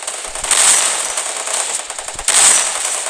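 Automatic gunfire from the mobile shooter Free Fire, played as a continuous rapid rattle without a magazine change, with two louder bursts near the start and end, loud and alone with no talk.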